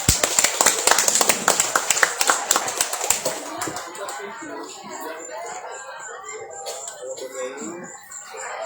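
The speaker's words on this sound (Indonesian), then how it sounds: "Monggo beri tepuk tangannya sekali lagi." An audience claps at a night vigil marking Indonesian Independence Day. Crisp, fairly close hand claps fill the first three seconds, then fade into chatter and laughter from the crowd.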